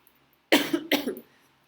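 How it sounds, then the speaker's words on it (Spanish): Two sharp coughs in quick succession, close and fairly loud, after a moment of near silence. "Una disculpa, ando con la tosecilla."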